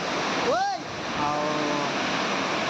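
Waterfall running full in the rainy season, a steady broadband rush of falling water filling the scene, with a brief whistle-like tone and faint voices partly over it.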